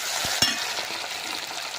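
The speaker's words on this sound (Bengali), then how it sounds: "টমেটোটা অল্প ভেজে নেব।" Chopped tomato and onion sizzle in hot oil in a pan, a steady close frying hiss with a couple of quick stirring scrapes early on.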